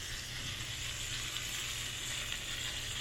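Tilapia fish sears and sizzles in a pan while being moved around, a steady, close frying hiss holding constant throughout with no talk.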